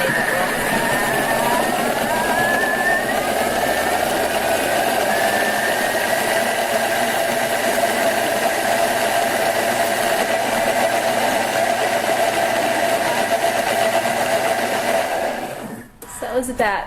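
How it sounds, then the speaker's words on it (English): Countertop blender running at high speed, around setting 8 to 9, blending vegetable stock paste: a loud, steady whirring roar held for about fifteen seconds, then cutting out near the end. "like your traditional stock paste, we're going to blend it down"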